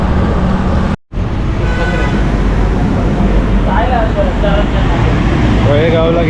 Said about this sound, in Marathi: ट्रॅफिक खूप आहे या रोडवर, फुल कंटेनरचा ट्रॅफिक